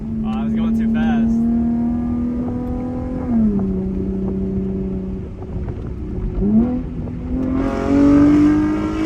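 A loud Chevrolet Camaro downshifts beneath a bridge, its exhaust note droning at steady revs, then dropping and climbing again as gears change, with the engine rising sharply near the end and someone talking briefly at the start.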